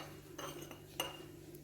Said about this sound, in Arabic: فغادي ناخذ جوج معالق من هاد الاعشاب اللي طحنت،